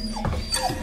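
A dog whimpers in a German children's audio drama, set at the entrance to a musty, dungeon-like space. It is one short, close whine with a soft breathy edge, alone and without talk.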